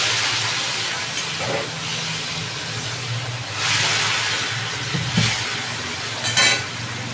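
Constant sizzling hiss from a hot pan of cumin, coriander, ginger paste and Kashmiri chili powder sautéing with a little water, with a few scraping stirs along the way and no voices.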